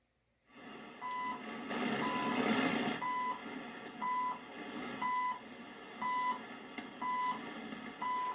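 A JRC NRD 253 radio receiver powers on and plays steady broadband hiss and tuning noise, with a short high tone repeating about once a second over it.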